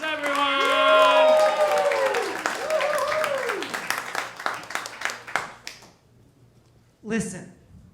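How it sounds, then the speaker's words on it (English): Comedy club audience clapping and cheering for a stand-up comedian, scattered claps under a host's loud voice, thinning out to near silence before a short final burst. "keep those claps going"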